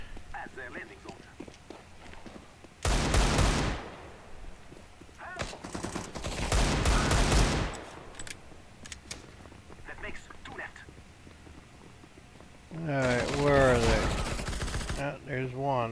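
Gunfire from a shotgun in a video game bursts out in three separate loud volleys, with a few quieter shots between them and voices talking throughout.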